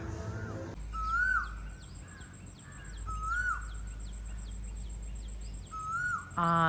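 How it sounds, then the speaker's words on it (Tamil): A koel calls repeatedly at a distance in a rural outdoor setting, three rising whistled phrases spaced a couple of seconds apart over a steady low hum, with other faint birds chirping in the background. "இந்த குயில் தான் கத்துது."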